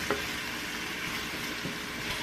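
Vegetables roasting in a pan with leftover oil give off a steady, close sizzle with faint crackling. It holds at an even level for the whole stretch, and no voices are heard.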